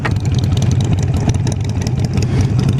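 Harley motorcycle engines, a 48 and an 883, running close by: a loud, continuous, throbbing low rumble with a rough, uneven beat, and no talk.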